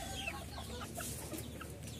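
Chickens, including fighter and Silver Sebright birds kept for sale, cluck faintly in a short, quiet stretch of soft calls over steady background hum.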